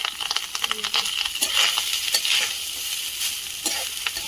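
Fried rice with raisins being stirred in a pan, a steady sizzle with repeated scraping and stirring strokes, fairly close and alone without talk.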